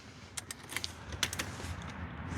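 Car keys jangle in a series of bright metallic clinks and rattles near a vehicle just before its engine is started, the jingling coming in short bursts against a low background hum.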